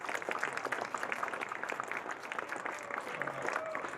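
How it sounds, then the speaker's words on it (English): A sizable audience at a science café talk gives a steady round of applause, dense clapping that holds at an even level throughout. "So can we have a big round of applause for Professor Robert Glennon?"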